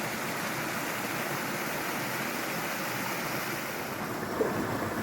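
Water rushing over rocky cascades in Far Easedale Gill, a Lake District mountain stream, a loud, steady broadband roar close by with no break and no voices.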